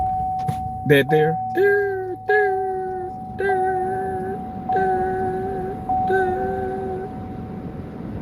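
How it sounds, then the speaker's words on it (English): A string of about six short electronic warning beeps repeats at irregular intervals over a faint steady tone, with a brief spoken remark. "Is that beeping in your car or mine?"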